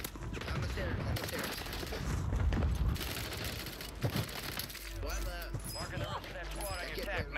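Rapid bursts of Striker 9 gunfire in Call of Duty on Rebirth Island, mixed with game effects and faint talk, the shooting thinning out toward the end.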